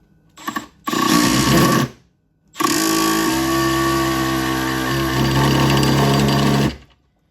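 A Milwaukee M12 Surge driver sinks a Phillips head screw in two bursts, a short loud whir followed by a brief pause, then a longer sustained whining drive that drops in pitch before cutting off.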